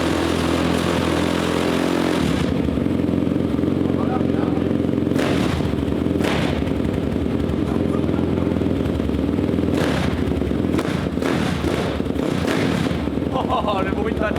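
A YCF pit bike engine at first start, running loudly with rough revving and clattery mechanical noise, surges and bursts over the idle, with people talking over it.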